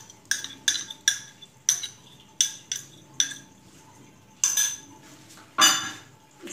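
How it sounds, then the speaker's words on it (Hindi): A spoon clinks against a bowl in a run of sharp, regular taps as mint, coriander and green chili paste is stirred into yogurt, close and clear, with a louder scrape and clatter near the end and no talking. "इसको अच्छे तरीके से मिक्स करेंगे।"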